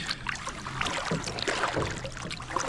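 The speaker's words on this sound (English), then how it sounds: "I wanted to get out just for a quick paddle around the lake" A kayak or canoe paddle dipping and pulling through calm lake water, with soft rhythmic splashes and trickles close by, quiet and unaccompanied by voices.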